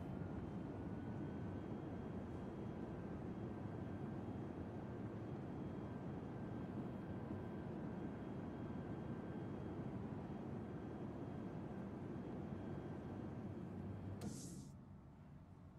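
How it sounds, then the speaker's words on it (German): A steady, distant airplane-like drone in The Forest video game, a continuous low rumble holding evenly for about fourteen seconds before abruptly thinning out, with no talk over it. "Hört sich an wie so ein Flugzeug."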